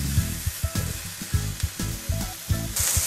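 Onions sizzle steadily in a hot pan for a Japanese chicken-and-egg rice bowl, with a spatula rhythmically scraping and stirring them up close.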